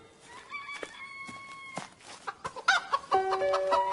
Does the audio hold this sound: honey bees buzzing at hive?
no